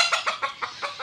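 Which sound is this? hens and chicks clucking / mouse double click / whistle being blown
hens and chicks clucking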